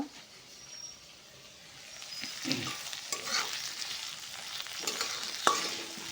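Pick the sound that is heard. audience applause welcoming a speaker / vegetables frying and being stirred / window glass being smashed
vegetables frying and being stirred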